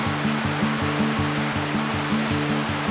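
Steady, loud rushing of creek water flows continuously and close by with no pauses, a broad even wash of sound.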